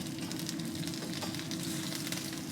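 Schnitzels fry in hot oil in a pan, giving a steady, close, crackling sizzle that runs continuously without a break.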